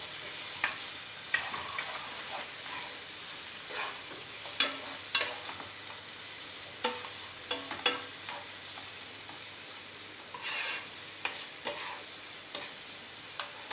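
Ginger, chilli and garlic paste fries in a pan with a quiet, steady sizzle, punctuated by frequent light clicks and scrapes of a spatula stirring.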